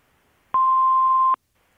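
An answering machine beep right after the outgoing greeting, one steady tone held for about a second that is loud and clean against near silence.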